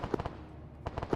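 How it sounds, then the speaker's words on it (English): Mortar strikes in a military video game, two clusters of quick muffled thumping blasts separated by a short lull, moderately distant and fairly faint. "Mortar strikes."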